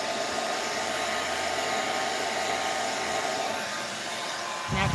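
Hair dryer blowing over wet paint on a mixed media collage, a steady loud close whoosh that cuts off with a thump at the end, no voices.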